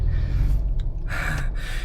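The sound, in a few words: person panting after carrying a water jug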